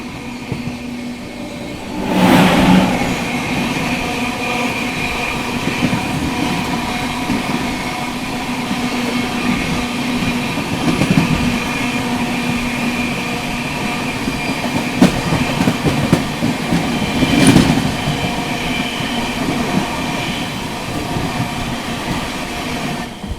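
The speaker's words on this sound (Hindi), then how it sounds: "सामने से आती हुई आनंद विहार हटिया झारखंड स्वर्ण जयंती एक्सप्रेस दोस्तों।" Anand Vihar–Hatia Jharkhand Swarna Jayanti Express rushing past on the rails, a loud continuous roar with rhythmic wheel clatter and brief squeals, no voices.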